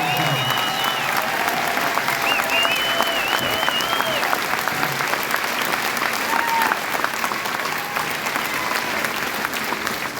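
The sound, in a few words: rally crowd applause for convoy workers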